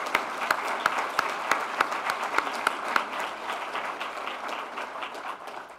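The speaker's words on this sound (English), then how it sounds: "Let's give them another huge round of applause." A live audience applauds at a science presentation on marijuana, a dense, steady round of clapping with a few sharp louder claps standing out, gradually thinning toward the end.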